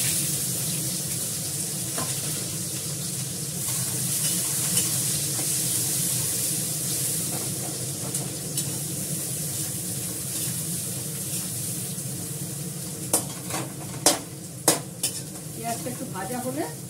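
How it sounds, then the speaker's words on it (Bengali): Onions frying and being stirred in a pan for a Bengali meat curry, a steady sizzle running throughout with scraping stir strokes and a few sharp utensil clinks near the end; no talking. "তার জন্য আমি প্রথমে দেবো হচ্ছে পেঁয়াজ, একদম কষা করে করবো।"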